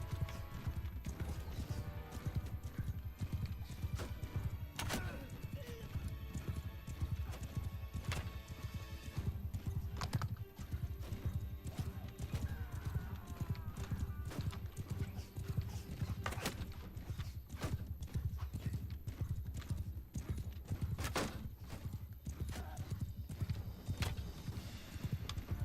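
A horse in a Warhammer video game gallops with steady clip-clop hoofbeats and occasional whinnies, continuous and fairly faint beneath a busy mix of game sounds.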